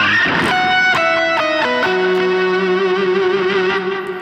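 A distorted electric guitar plays a few quick descending notes, then lets a heavy, ringing chord sustain with reverb trailing off.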